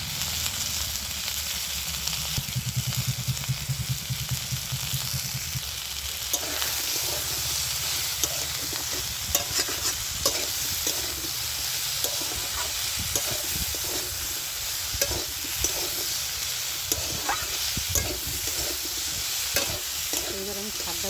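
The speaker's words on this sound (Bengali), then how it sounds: "ভালো করে আলু আর বেগুনটা কষানো হয়ে গেছে আমার।" Potato and eggplant are stir-fried in a pan for a vegetarian leafy-green dish, with a steady sizzle under repeated scraping and stirring strokes from a spatula, close and continuous throughout.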